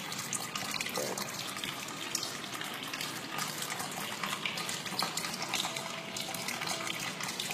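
Water runs steadily from the faucet of a Fujiiryoki alkaline hydrogen water ionizer, a soft continuous gush that goes on alone without pause.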